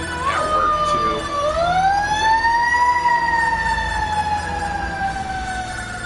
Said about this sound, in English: Okay, sirens are gone.